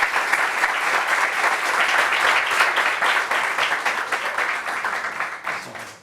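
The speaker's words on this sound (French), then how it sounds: "Applaudissements pour M. Bly." Studio audience applause greets an arriving guest on a television set, a bright, sustained burst of many hands clapping together that stays full for several seconds and then tapers off at the end.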